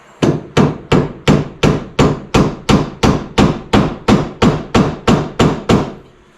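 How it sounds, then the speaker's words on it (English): A rubber mallet strikes a tight, greased part on a D150 lowering job, about fifteen evenly spaced firm thumps in a steady rhythm, close and loud with no talking. "So now I got my rubber mallet."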